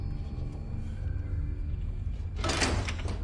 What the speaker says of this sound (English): So even the way Isaac is opening the door